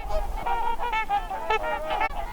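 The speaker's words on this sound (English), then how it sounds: "Today is a typical mid-morning for trumpeter swans overwintering at the refuge." Trumpeter swans overwintering at a wildlife refuge on a cold mid-morning give repeated, overlapping honking calls. The trumpet-like notes rise and fall in steady succession, close and fairly loud, with no talking.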